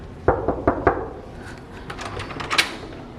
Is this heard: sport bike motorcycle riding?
no